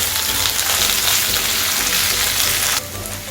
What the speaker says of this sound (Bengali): এবার পেঁয়াজটাকেও অল্প কিছুক্ষণ সময় নিয়ে আমি একটু ভেজে নেব